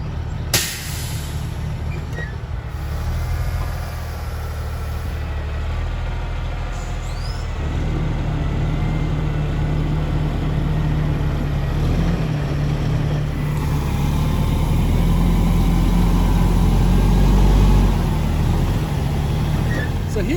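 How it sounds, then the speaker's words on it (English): A tri-axle log truck unloads beech poles, a steady loud diesel rumble running throughout with occasional knocks and shifts in pitch as the load comes off, broadband mechanical noise filling the whole stretch. "we're going to show you the truck, watching him unload"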